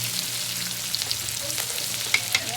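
Garlic and onion sautéing in a pan, giving a soft, even sizzle up close with a couple of light utensil clicks near the end, no voices.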